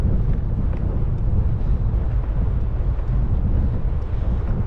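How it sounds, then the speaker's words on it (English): Steady roaring headwind buffets the microphone while cycling along a fjord road in Iceland's Westfjords, a loud, continuous low rumble with no gaps and no talking. "and hit a bit of a headwind."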